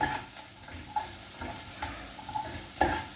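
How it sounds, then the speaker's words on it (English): Onions fry in a pan for a lentil ragu with a steady soft sizzle, broken by occasional clinks and scrapes of a utensil stirring against the pan. "you can hear the onions frying probably"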